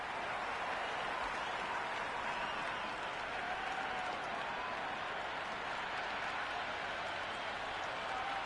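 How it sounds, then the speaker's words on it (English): Stadium crowd in the Cricket 26 video game applauding and cheering a four struck to the boundary during an India vs South Africa T20 match, a steady broadband roar of clapping and voices lasting throughout. "The crowd love that one."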